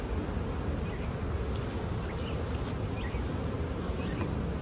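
Honey bees buzz continuously around an open hive during an inspection, a dense, steady drone close by, with occasional louder passes as individual bees fly near.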